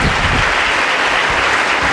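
Congregation applauding in church during a Sunday service, steady dense clapping throughout, loud and close with no talk over it.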